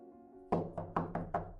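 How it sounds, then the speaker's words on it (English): Five hollow knocks strike a boat's porthole window from outside, close and fairly loud, landing in a quick, slightly uneven rhythm after a moment of quiet. "Someone was knocking just outside the window."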